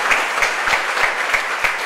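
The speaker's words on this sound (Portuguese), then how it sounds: "então aplaude ao Pai nessa noite" A church congregation clapping during an evening service, with evenly spaced rhythmic claps about three per second over a soft, steady crowd wash.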